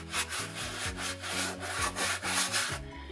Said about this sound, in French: vous allez prendre votre brosse et frotter comme sur l'autre, comme sur les boots